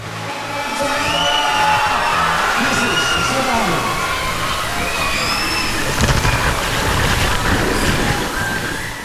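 Waves churn and slosh in an artificial wave pool at a water park, a broad steady wash of surging water under a busy crowd and excited shouting voices.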